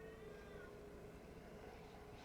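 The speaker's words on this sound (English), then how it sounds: "If you're hearing my cat outside, don't worry about her." Cat meowing outside, a faint, drawn-out cry heard from a distance in a quiet room, followed by a brief soft click at the end.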